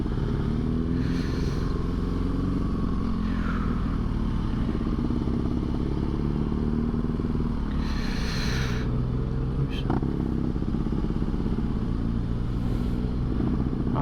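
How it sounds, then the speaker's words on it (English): A BMW motorcycle engine heard from the rider's position, a loud steady drone with shifting pitch, wind rush and occasional clatter and thumps as the bike rides along. "I can never hear whether other people's bikes sound good because mine's fucking so loud in my ears"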